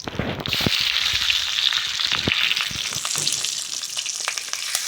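Nigella seeds and slit green chillies frying in a little mustard oil in a wok, a close, steady crackling sizzle with brief stirring clicks throughout and no voices.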